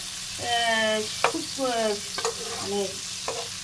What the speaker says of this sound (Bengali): এদিকে আমি একটুখানি ফুলকপি কেটে রেখেছিলাম, ওটা ভাজার জন্য বসিয়ে দেবো